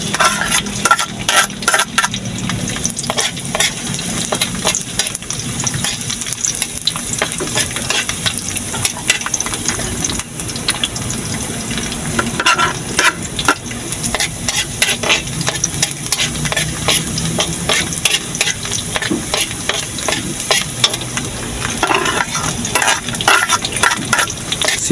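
Garlic sizzles and crackles steadily in a hot kawali, with continuous frying noise and occasional scraping and stirring of a utensil against the pan, close and fairly loud throughout.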